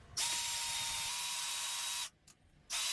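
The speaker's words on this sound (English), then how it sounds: "Now I'm just going to start drilling out the pocket holes." A power drill whines steadily for about two seconds while drilling pocket holes in wood, stops briefly, then spins up again, close and loud with no talking.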